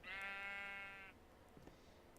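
A sheep in the modded Minecraft pack Blightfall gives one clear, drawn-out bleat at moderate distance, followed by soft game sounds over a faint background hum.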